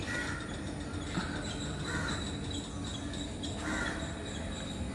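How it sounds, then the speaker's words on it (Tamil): Crows cawing outside a resort lobby at Poovar, Kerala, several harsh calls in short bursts over a constant ambient hum and faint insect-like buzz, moderately distant with no talk. "ரொம்ப அழகாக அது மாதிரி பறவைகளோட சத்தத்தோட சூப்பராக இருந்தது."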